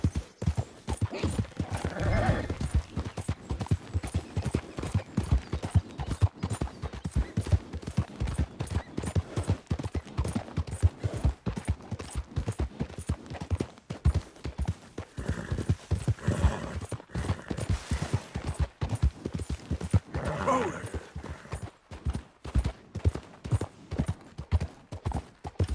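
A horse gallops steadily through Red Dead Redemption 2, its hooves drumming in a fast unbroken rhythm for the whole stretch, with occasional snorts and brief whinnies over the pounding.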